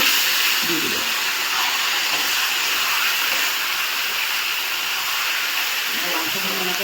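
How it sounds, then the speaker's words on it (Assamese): Chicken pieces with green chilies fry in a pan, giving a steady broadband hiss and sizzle that runs the whole time, with a faint low murmur here and there. "মাংসখিনি এনেকৈ দি ভাজি থাকিব লাগিব"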